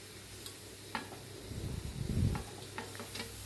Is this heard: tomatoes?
yes